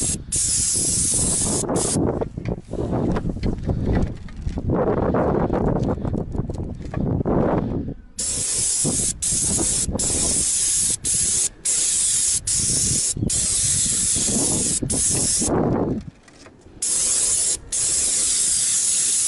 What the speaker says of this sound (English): So I started first coat of spraying roof membrane